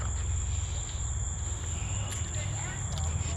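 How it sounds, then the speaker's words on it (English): Cicadas buzz in a steady, unbroken high-pitched drone over a low background rumble, continuous and fairly faint throughout. "listen to the sound of the cicada bugs"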